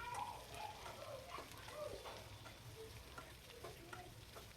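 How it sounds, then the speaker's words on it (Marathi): Green chillies fry and crackle in hot oil, stirred in a pan; a steady close sizzle runs throughout with scraping stir sounds and no talking. "तेल छान असं गरम झाल्यानंतर त्यामध्ये आता आपल्याला ह्या मिरच्या टाकून घ्यायच्या आहेत"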